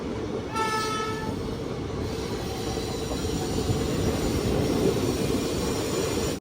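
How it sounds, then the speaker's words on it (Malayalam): A Kannur–Ernakulam Intercity train pulls into Thalassery station with a steady loud rumble of wagons, a brief horn blast near the start and faint wheel squeal running throughout. "തലശ്ശേരി സ്റ്റേഷനിലേക്ക് ഇതാ ട്രെയിൻ എത്തിയിരിക്കുകയാണ്"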